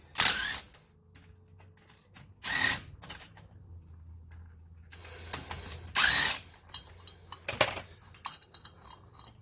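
Rattle gun (impact wrench) removing the front wheel nuts of an RA RA7 Rodeo at home, several short loud bursts of hammering with quieter clicks and clatter between them.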